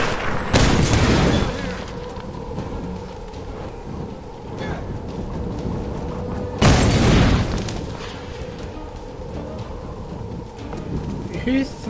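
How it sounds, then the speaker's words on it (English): Bomb explosions in the video game Tomb Raider (2013), two heavy booming blasts several seconds apart, loud and close, with game sounds and voices in between. "Who's throwing these bombs at me?"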